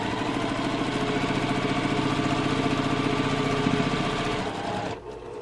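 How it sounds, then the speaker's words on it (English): A sewing machine stitches foundation paper piecing, a close, steady rapid mechanical whirr that runs evenly for several seconds, then stops abruptly near the end. "I sort of hold the machine at the end, so you have a nice tight stitch"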